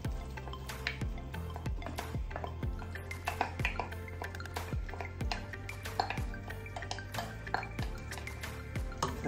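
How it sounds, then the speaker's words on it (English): Chopped onions, bell pepper and red pepper poured into a cooking pot of collard greens and pigtails, a busy run of close metallic clinks, taps and scrapes from utensils and cookware with no talking. "So now I'm gonna put my onions and my bell pepper and my red pepper. I'm just gonna pour it in there."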